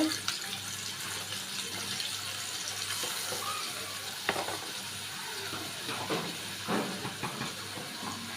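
Hot oil hissing and sizzling in a pan ready for cooking dried fish (shutki), a soft continuous hiss with faint crackles and light clinks, fairly quiet and steady without speech.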